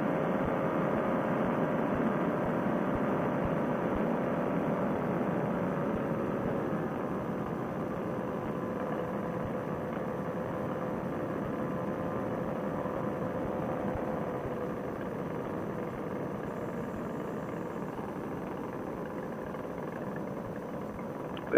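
Steady, continuous engine drone from a paramotor trike in flight between New Concord and Bloomfield, Ohio, holding an even, loud level throughout with no talking.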